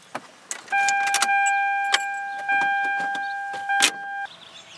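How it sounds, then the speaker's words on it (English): A car's electric fuel pump primes in two steady, whining hums of about two seconds each, close and fairly quiet, with clicks and clunks of handling around them. "I hear a fuel pump."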